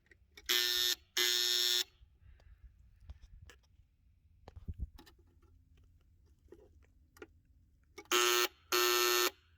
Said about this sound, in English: you have an alarm and a buzzer that sounds something like this